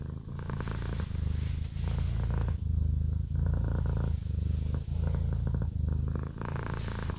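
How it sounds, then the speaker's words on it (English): Cat purrs close up in a steady rhythmic rumble, loud and continuous, with short pauses between breath cycles and no talking. "She is very clingy as a cat."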